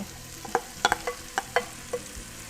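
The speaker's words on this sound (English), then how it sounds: "Now I'm gonna add my onions and my garlic and my celery." Onions, garlic and celery sautéing in butter in a pot for clam and corn chowder: a soft, close sizzle beneath a scattered run of sharp utensil taps and scrapes as the vegetables are stirred, with no talking.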